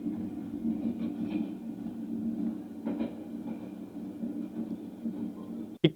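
Train at Katpadi Junction railway station: a low, steady rumble of a train with a few faint clicks, moderately quiet, ending in a sharp knock, with no talking.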